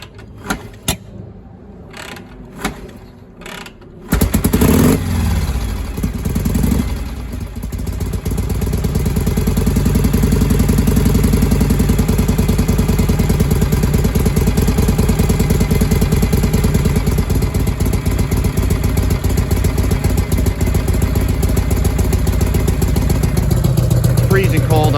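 A 1961 Harley-Davidson FLH Panhead, started in freezing cold, fires up after a few kicks and settles into a loud, steady, lumpy idle close by, with a brief voice heard before it starts.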